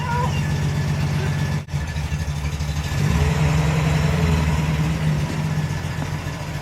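Pre-war Wolseley 14/56 engine running steadily with a low, even mechanical hum and slight roughness, a brief dip near the start, then a fuller, louder tone as it picks up; a voice speaks over it.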